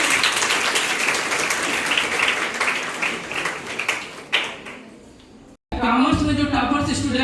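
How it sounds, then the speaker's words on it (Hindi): Loud applause from an audience at a parent-teacher meeting honoring a top-scoring student, many hands clapping steadily before fading and cutting off abruptly, followed by a voice speaking. "बच्ची के लिए एक बार जोरदार ताली बजा दीजिए।"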